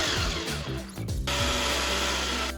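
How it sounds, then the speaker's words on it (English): A food processor whirs steadily as it purées cherry tomatoes with sugar and sherry vinegar, a loud, continuous motor drone with small shifts in pitch as the blades churn. "we're going to blend up our cherry tomatoes in a food processor with some sugar and sherry vinegar"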